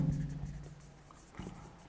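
Writing a math expression on a classroom board during a mathematics lesson gives faint, soft scraping strokes over a low room hum, with a slightly stronger stroke near the end.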